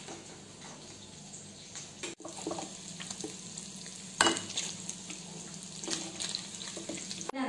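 Paneer cubes fry gently in butter over a low flame, a steady close sizzle with occasional stirring clicks and scrapes of a utensil against the pan.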